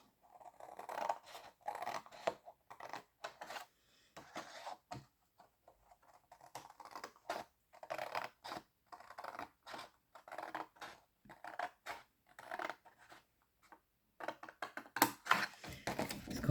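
Scissors snip through paper card for a scrapbook pouch, making a series of close, sharp cuts in irregular bursts separated by short pauses, with some rustling of the card.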